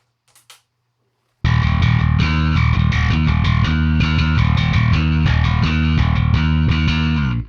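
Bass guitar riff with a gritty, lightly overdriven, clanky tone through a Fractal Audio FM9, played continuously and loud after a brief quiet pause at the start.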